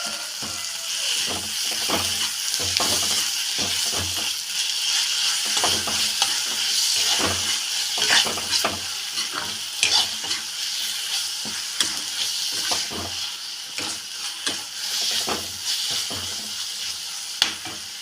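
Minced mutton sautéing with onions in a hot pan gives a steady, close sizzle and hiss, broken by repeated scraping strokes of a stirring spoon throughout.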